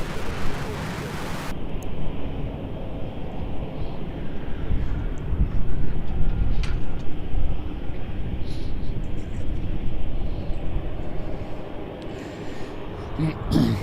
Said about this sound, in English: I get a Qantas A330 pushing back and spooling up